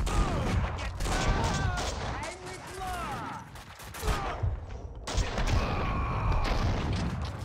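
Gunfire from the video game Max Payne 2 rattles in dense, sustained volleys, mixed with heavy booms and echoing impacts, loud and continuous with a short lull near the middle.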